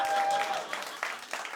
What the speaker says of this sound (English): Big round of applause for Peter Bell.